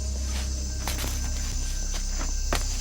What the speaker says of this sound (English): You're just exposed to a wonderful orchestra of different sounds, of many insects and frogs.